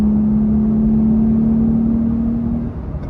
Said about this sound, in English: You probably can hear the cold air intake in the background.